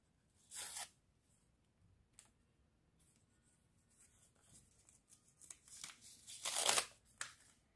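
A paper surprise packet is torn open up close, with a short rip, faint crinkling and handling, then a louder burst of rustling and tearing paper near the end, quiet between bursts and no talk.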